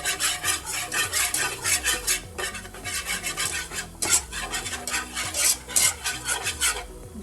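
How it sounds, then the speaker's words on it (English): Flour being stirred into a sauce for Alfredo penne, a steady rhythmic scraping of a utensil against a pan, close and continuous with no talking. "we'll just mix it up, make sure that there are no lumps"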